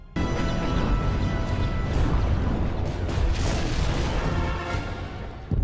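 A Separatist attack strikes the main reactor of a Republic cruiser. A loud, dense explosion roars and rumbles without a break for several seconds, full of crashing debris, and ends with a fresh burst.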